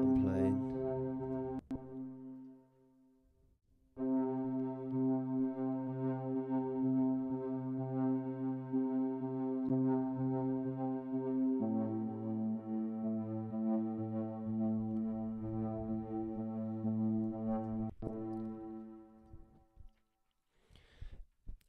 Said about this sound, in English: which is the strobe plugin, and I think it's just 2 notes that I'm playing.